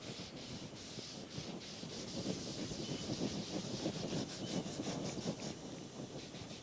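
A cloth rubs wood stain into a guitar body in quick back-and-forth strokes, a close, rhythmic scrubbing swish that repeats steadily throughout.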